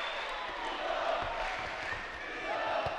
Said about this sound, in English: So we're getting a loud chant in the crowd tonight.